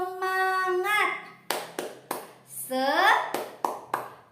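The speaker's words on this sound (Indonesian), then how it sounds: "1, 2, 3. Tepuk semangat." Children clap together in a sharp rhythmic pattern of scout spirit claps, following an adult voice that leads and counts in; the claps are crisp, moderately loud bursts between stretches of speech.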